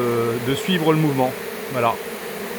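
An April swarm of honey bees buzzes in a steady close drone while someone speaks French over it.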